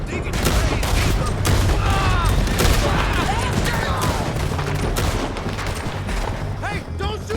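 Rapid gunfire crackles throughout a Red Dead Redemption 2 canyon chase, dense volleys of shots over rumbling hooves, with shouting voices mixed in.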